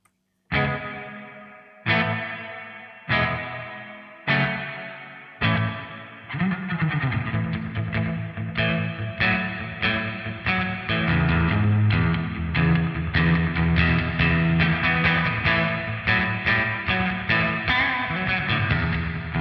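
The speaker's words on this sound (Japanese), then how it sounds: "割とオールドスクールなスプリングっぽい、 それなりに長さがあるミディアムリバーブ" Electric guitar played through an EarthQuaker Devices Zoar pedal on preset 121, an old-school spring-style medium reverb: several separate struck chords ring out and decay, then a continuous strummed, distorted passage with a washy tail, no voices.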